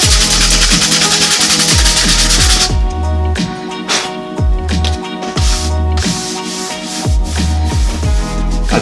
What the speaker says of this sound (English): That's actually sanding down really fast.